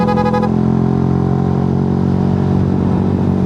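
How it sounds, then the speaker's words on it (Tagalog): A motorcycle engine hums loud and steady while riding on a coastal road in Ternate, Cavite, close-up and continuous with a brief clattering tone at the start and no talk. "Palag-palag pa rin naman tong motor natin."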